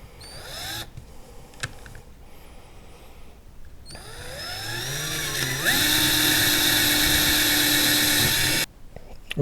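A power driver sinks 1/4 by 1 1/4 inch stainless steel lag screws through a monitor mount plate into a boat deck, whirring bursts that rise in pitch, then a long loud steady run before cutting off.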